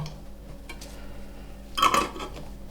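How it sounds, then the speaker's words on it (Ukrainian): Glass jars are packed with marinated champignon mushrooms and lidded, with a quiet, faint background before one bright, brief clink of metal and glass near the end. "Наклала в банки і закриваю кришкою"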